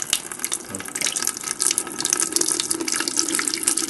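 Hot wort from an all-grain mash runs off steadily into a jug, a continuous splashing, gurgling stream of liquid heard close and fairly loud with no talking.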